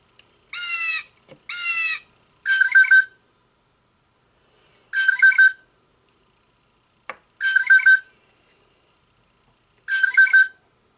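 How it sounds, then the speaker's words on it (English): A singing bird clock plays digital bird calls: two warbling chirpy phrases, then a series of short, bright, repeated call bursts separated by silent gaps, with a couple of faint clicks. "I think the Audubon Society one had a better realistic bird sound. This sounds very digital, but it's not distorted anymore."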